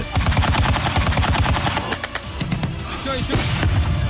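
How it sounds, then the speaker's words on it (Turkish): Rapid bursts of gunfire crackle close by, with heavy bomb blasts mixed in during an attack in Ukraine, followed by scattered shots and thuds as the firing thins out. "Bombalar peş peşe patladı."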